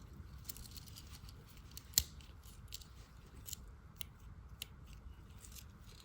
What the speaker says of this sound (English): It has got the scissors here